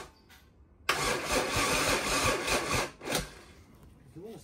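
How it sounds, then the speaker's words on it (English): A Mercedes OM603 turbo diesel engine cranks over with a loud, rhythmic starter-and-compression chug for about two seconds. A brief pause follows, then a shorter burst of cranking, heard up close with no talk. "Start cranking to prime the fuel."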